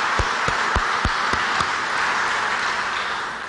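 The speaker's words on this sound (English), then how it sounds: "Let's give City Hall a round of applause." Audience applause at a public announcement by the governor, opening with several sharp, distinct claps before settling into a soft, diffuse round that gradually fades.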